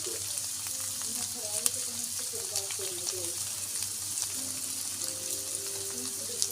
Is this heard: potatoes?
yes